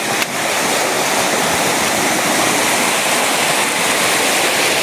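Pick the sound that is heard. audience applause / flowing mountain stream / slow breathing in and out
flowing mountain stream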